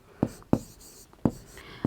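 Chalk or marker strikes a board in four sharp, separate taps while capital letters are written in a school English lesson, close and clear with only faint background.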